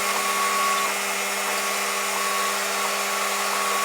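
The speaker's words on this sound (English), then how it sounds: "So I'm going to turn the laser cutter on now." A laser cutter is switched on and runs with a steady, even hum and fan whir, holding constant loudness with no talk.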